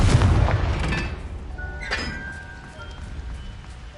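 Confringo blasting spell cast in the Hogwarts Legacy video game: a heavy booming blast at the start with a bright metallic ring partway through, fading into a rumbling tail.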